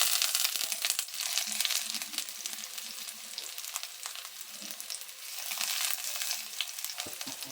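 Garlic sizzles and crackles in a hot pan as it fries, a close, steady hiss broken by faint stirring scrapes, with no talk.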